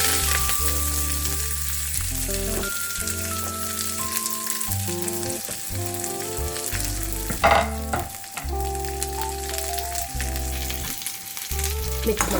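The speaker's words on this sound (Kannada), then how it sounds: "ಈಗ ಜಜ್ಜಿರೋ ಬೆಳ್ಳುಳ್ಳಿ ಹಾಗೂ ಈರುಳ್ಳಿ ಮತ್ತು ಕರಿಬೇವು ಸೊಪ್ಪು ಇದು ಮೂರನ್ನು ಹಾಕ್ಕೊಳ್ಳೋಣ ಒಗ್ಗರಣೆಗೆ" Crushed garlic, onion and curry leaves crackle and sizzle in hot tempering oil, a continuous frying hiss that sits under loud melodic background music with no talk.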